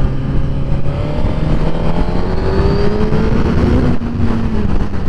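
A Suzuki GSX-R1000R sportbike accelerating hard on a coastal road ride. The engine note climbs steadily and loudly through the revs, with heavy wind rush, heard from on board.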